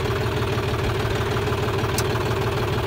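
A John Deere 5105 tractor engine idles at about 700 RPM in a steady, close, loud diesel rumble with even low knocking throughout.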